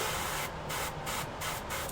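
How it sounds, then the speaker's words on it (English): An airbrush sprays paint in a loud, close hiss, broken into several short bursts by brief pauses as the trigger is released and pulled again. "You are giving me grief, airbrush. Just spray the paint."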